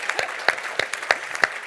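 Audience applause at a talk, sounding as a thin, sparse patter of separate claps spread over a brief moment and fairly close.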